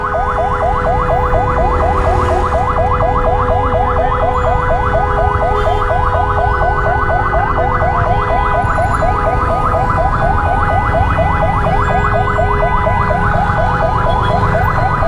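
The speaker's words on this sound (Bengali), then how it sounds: "অ্যাম্বুলেন্সটা ছেড়ে দেওয়া উচিত ছিল" An ambulance siren wails in rapid repeating cycles, loud and near, stuck in heavy Dhaka traffic near New Market, with engine rumble and street noise underneath throughout.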